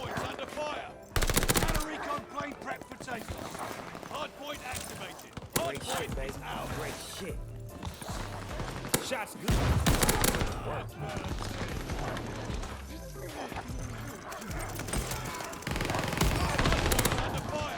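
A PPSh-41 submachine gun fires in Call of Duty Vanguard, in loud rapid automatic bursts that repeat through the match amid game effects, while someone talks over the gunfire.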